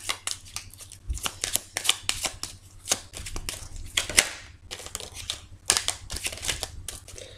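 A deck of tarot cards cut and shuffled by hand, a rapid run of crisp papery riffles and slaps close up, with no talking.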